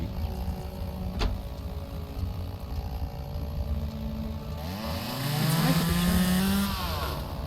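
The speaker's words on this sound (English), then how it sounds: "I am going to get the chainsaw out." A chainsaw in the video game Lumberjack's Dynasty clearing bushes, its engine droning steadily throughout and then revving higher and louder as it bites in, close and alone with no talk.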